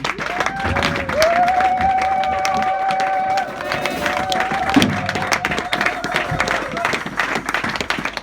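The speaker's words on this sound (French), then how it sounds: "nous acclamons très fort pour le Seigneur" A church congregation loudly cheers and applauds for the Lord, a sustained wash of clapping and crowd voices with a held tone running through it, and a few sharper bursts near the end.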